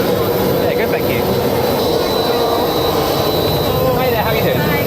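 Steady, loud roar of a Gulfstream 4 private jet's engines heard from nearby, constant throughout, with people talking underneath.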